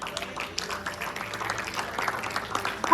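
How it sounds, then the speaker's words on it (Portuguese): A church congregation applauds during a worship service, steady crowd clapping that fills the space over a low murmur of voices. "Você pode dizer amém, aplaudir ao Senhor?"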